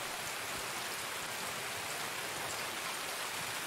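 Steady rain falling in the Escape from Tarkov video game, a dense, even hiss of drops that fills the whole stretch without a break, with no voices over it.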